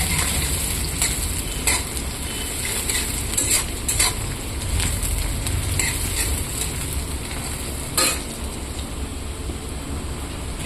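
Onions fry in a pan toward light brown, making a dense, steady sizzle with repeated spatula scrapes and clinks against the pan over several seconds; no talking.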